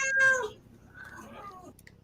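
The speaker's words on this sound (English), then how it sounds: "That sounds like a cat." A cat meows twice at close range, a loud rising call followed by a softer, longer wavering one, with no voices over it.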